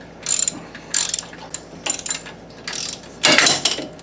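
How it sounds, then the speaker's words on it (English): A ratchet tightening bolts on Jeep Wrangler sway bar bushings, four loud bursts of rapid clicking close by, separated by short pauses as the handle swings back. "You don't want to just go ahead and tighten one side down all the way before you even get the other one in."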